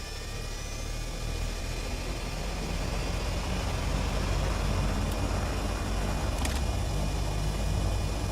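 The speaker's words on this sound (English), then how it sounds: "They've changed the sounds on this to make the engine sound smoother, more realistic and more powerful" A turbine engine in a flight simulator game spins up from start, a steady smooth whine and roar with faint high tones, loud and continuous with no talk.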